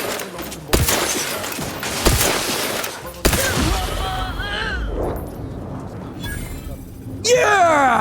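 Gunfire in the video game Outer Worlds 2: several sharp, loud shots and bursts break through dense, busy game audio, with a voice talking over the action.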